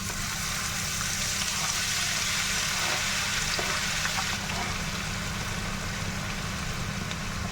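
Garlic and chili pepper frying in hot oil in a pan, a dense, steady, loud sizzle that holds evenly throughout, close up and without speech.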